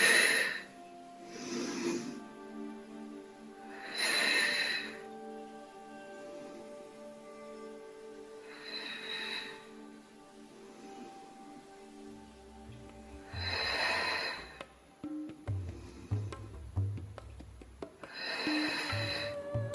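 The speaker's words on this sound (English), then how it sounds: "Keep breathing, inhale," Deep, audible breaths during a Pilates exercise come at steady intervals of a few seconds: breathy inhales and exhales, close and moderately loud, over soft background music and without speech.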